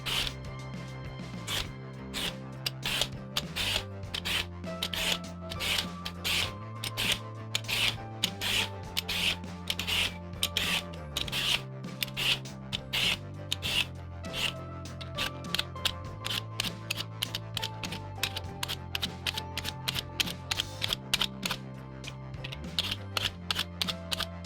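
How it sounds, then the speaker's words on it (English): Rapid scraping strokes of a peeler stripping tough skin from sweet potatoes, a quick steady rhythm of close rasping swipes repeating throughout, with a low hum underneath and no speech. "just peeling it."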